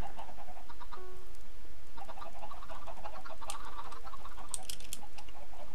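Chickens cluck in Minecraft, repeated short clucks over a steady wash of game ambience that stays loud through the whole stretch, with no talk.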